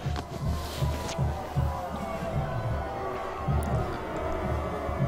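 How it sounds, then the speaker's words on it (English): A high school football crowd in the stands during a Blacksburg versus Cave Spring game, a steady murmur of many voices with low rumbling reactions that could be booing, sustained throughout at moderate distance. "Heard some booing going on."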